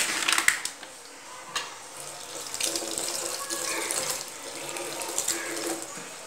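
Tap water runs steadily into a bathroom washbasin, splashing and gurgling close up, with no talking.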